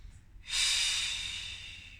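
A single deep, hissing inhalation during a hypopressive breathing exercise, starting abruptly and drawn out for over a second as it slowly fades, close and clear with no talking.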